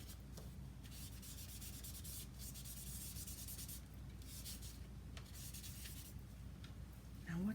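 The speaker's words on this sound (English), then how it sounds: "Let's try a little burnishing here." Pastel is burnished on paper in soft, continuous rubbing strokes, close and faint, arriving in several sweeping bursts.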